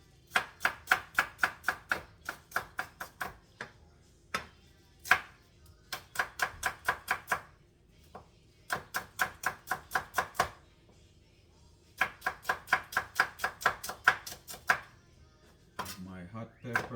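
Knife slicing a purple onion thinly on a cutting board for Jamaican curry fish, quick bursts of crisp rhythmic chops in runs of eight to ten strokes, separated by short pauses, close and clear.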